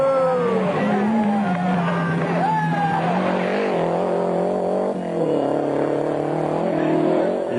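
Rally cars racing, an Italian driver's Lancia Integrale alongside a Mazda in a historic French rally, their engines roaring loud and continuous with shifting revs and gear changes throughout, under a faint commentary voice.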